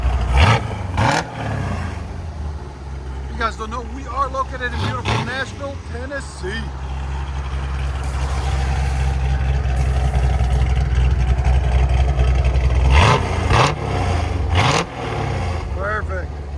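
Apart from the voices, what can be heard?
1969 Chevy Corvette V8 revving, headers and Borla Atak exhaust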